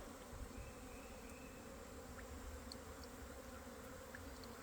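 Honeybees swarm around apiary hives, including resource hives and fresh splits with newly added queens, making a steady, dense buzzing hum that holds without a break from start to finish, with no voices.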